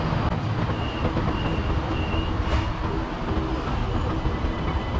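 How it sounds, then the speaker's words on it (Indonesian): An MRT metro train runs at Sungai Buloh station in Malaysia, a loud continuous rumble and rattle of rolling stock filling the platform, steady throughout with a faint high whine and no talk. "tuh MRT nya ada sana tuh tapi kita nggak naik ya"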